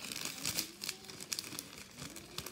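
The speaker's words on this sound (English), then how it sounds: "This one is inside a Tupperware, inside a plastic bag." Plastic bag holding a Tupperware container of embroidery thread crinkles and rustles close by in quick, irregular bursts, no talking.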